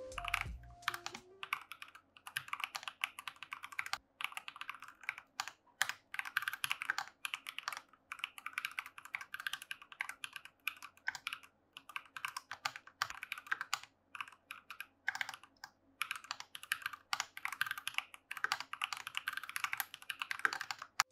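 Steady, fast typing on a Glorious GMMK Pro mechanical keyboard, with crisp clacking keystrokes in a continuous rhythm, recorded close and alone.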